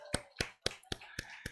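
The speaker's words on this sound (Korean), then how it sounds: "오늘 박수로 환영하겠습니다" Clapping during a Korean church's Sunday morning worship service: six sharp, evenly spaced claps land in a brisk, steady rhythm. They sound fairly faint, with no talking over them.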